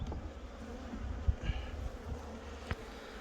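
Honey bees buzz in a steady, close hum as they are shaken off an end frame of a beehive, with a few soft knocks and thumps breaking through the drone.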